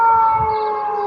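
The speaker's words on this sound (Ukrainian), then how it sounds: "Сирена орет. Говорят, опасная. пожарно-опасная тревога." An outdoor warning siren sounding a fire-hazard alert, a sustained steady wailing tone with a strong harmonic hum, loud and continuous throughout.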